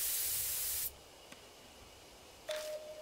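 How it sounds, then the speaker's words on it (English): Chemical sprayer aimed at a hive in the game Death Mark: a loud broadband hiss of spray for about a second, then quiet, a small click, and a brief burst of hiss with a tone near the end. "I take a flame and spray the chemical."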